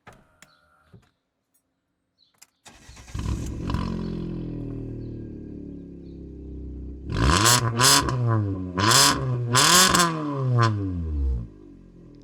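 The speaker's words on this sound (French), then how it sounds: "J'en profite et je vous mets en insert la sonorité du véhicule." Alfa Romeo MiTo with a 1.4 litre engine starts after a short silence, settles into a steady idle, then gives several sharp revs that rise and fall in quick succession, loud and close, with no talking.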